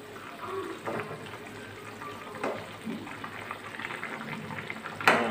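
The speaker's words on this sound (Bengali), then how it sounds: "এখানে মাংসটা ফুটছে" A pot of meat curry bubbles steadily on the stove with a soft, continuous simmer, close by. Voices talk faintly underneath, and a sharp clink comes near the end.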